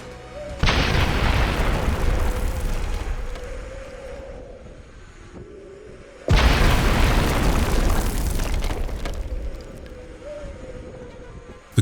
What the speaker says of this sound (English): Massive explosions obliterated enemy personnel and completely leveled their strategic structures.